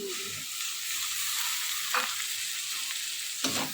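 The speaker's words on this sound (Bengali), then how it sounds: "এটাকে একদম জব্বর করে কষাতে হবে।" Dried fish (shutki) with chilli powder stir-fried in a pan, giving a steady close sizzle broken by two sharp scraping stirs of the spatula, with no talking.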